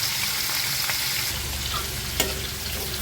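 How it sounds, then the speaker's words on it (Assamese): Fish pieces coated in spice paste are laid one at a time into hot oil, a loud close steady sizzle and crackle with a brief clatter partway through and no voices. "এতিয়া তেলত দি দিওঁ এটা এটা কৰি।"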